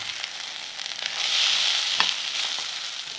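Chicken tikka mixture fries in ghee with a steady, close, loud sizzle, broken by occasional soft scraping from stirring.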